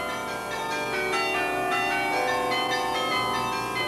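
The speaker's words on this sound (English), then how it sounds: "Once the big bells end their drama," Smaller carillon bells at Riverside Church ring out in a continuous, resonant wash of overlapping tones with many harmonics sustaining, loud and steady throughout.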